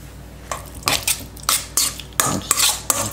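A utensil scrapes and clanks against a cast iron grill pan on an induction cooktop as chicken breasts are stirred in oil, in about six close, loud bursts with short quiet gaps between them.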